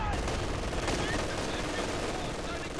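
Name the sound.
machine gun fire in strategy video game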